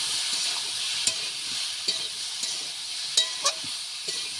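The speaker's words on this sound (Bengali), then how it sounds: "সুন্দর করে নেড়ে দিলাম।" Free-range chicken curry with salt, coriander powder and raw mustard oil being stirred in a sizzling pan, with soft steady frying hiss and occasional sharp clinks of the spoon against the metal.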